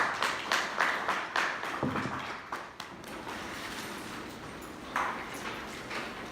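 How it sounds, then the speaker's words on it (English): Crowd applause greeting someone speaker before her presentation at a scholarly event, a dense wash of clapping in the room with a few louder bursts early on, then settling into steady, fairly even clapping. "let's give her a nice round, warm applause"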